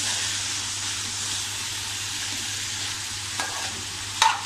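Ridge gourd vegetable with dal sizzles in a pan and is stirred, a steady frying hiss with a couple of sharp utensil scrapes near the end, no talking.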